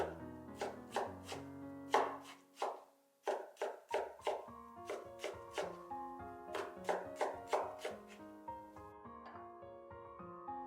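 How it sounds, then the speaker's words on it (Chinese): A knife chopping homemade pickled cabbage on a cutting board, close, crisp rhythmic strokes in quick runs with brief pauses, over soft background music. "直接给它切碎"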